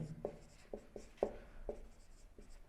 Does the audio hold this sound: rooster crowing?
no